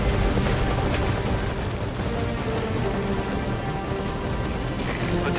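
Helicopter in the video game Metal Gear Solid V: Ground Zeroes, its rotor and engine roar loud and steady throughout, dense and continuous, with a faint higher tone entering near the end.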